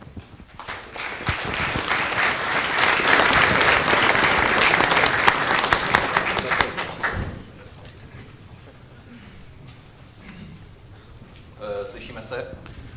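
Audience applause welcoming the Seznam founder to the stage in 2007, a loud, sustained wash of clapping that swells and then drops off sharply halfway through, followed by quieter room sound and a voice starting to speak.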